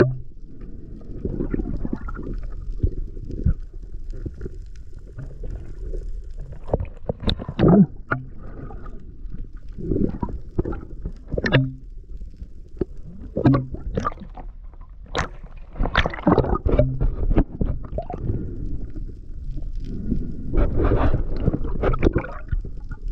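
A small boat on open sea near Cabalian Bank heads home after a day of spearfishing, with steady water splashing and sloshing against the hull, gurgles and wind buffeting, continuous and close.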